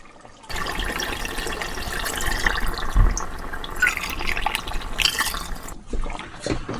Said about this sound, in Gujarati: આ સમયે એમાં આપણે 2 કપ જેટલું ગરમ પાણી એડ કરીએ.